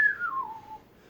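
A person whistles a single, faint note that glides downward for under a second, heard alone in a quiet room.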